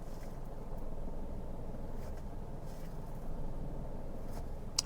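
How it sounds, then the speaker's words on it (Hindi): A manual car's engine idling and labouring under clutch control, a low, steady rumble heard from inside the car, fairly faint, with a slight heaviness and a small click near the end. "मेरी गाड़ी का साउंड थोड़ा सा भारी हो गया था"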